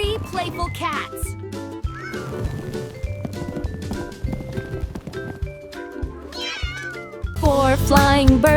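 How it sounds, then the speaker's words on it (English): Cartoon cats meow repeatedly among busy layered sounds, with clopping and a bright music-like burst near the end; voices are present. "3 playful cats."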